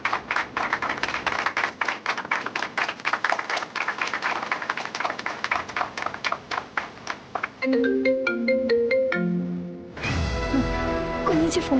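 A phone rings on in a Malayalam family TV serial, a long run of rapid tapping pulses before a brighter ringtone melody takes over, with speech mixed in.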